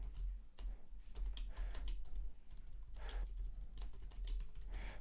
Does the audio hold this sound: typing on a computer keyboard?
yes